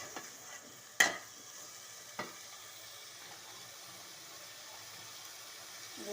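Vegetables being sautéed in a pan, a faint steady frying hiss throughout with two sharp stirring clinks near the start, close and quiet, no talk.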